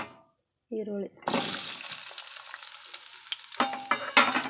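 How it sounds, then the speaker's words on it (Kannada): Onions dropped into hot oil in a pan after something fried has been lifted out, for a simple Hubballi-style chutney: a brief clatter, then a loud, steady sizzle with stirring scrapes that swells again near the end. "ಈರುಳ್ಳಿನ ಹಾಕ್ಕೊಂಡು ಚೆನ್ನಾಗಿ ಫ್ರೈ ಮಾಡ್ಕೊಳ್ಳೋಣ"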